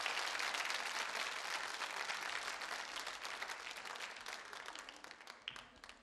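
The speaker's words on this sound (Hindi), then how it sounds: "तालियां बजाकर संकल्पित होइए आप।" Audience at a Holi quiz show clapping loudly in a dense, sustained round of applause that gradually tapers off.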